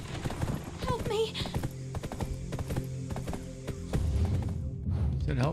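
Horse hooves gallop in the Black Desert video game, a steady run of clip-clop beats with a thud as a character is run over, heard under game music and ambient sound.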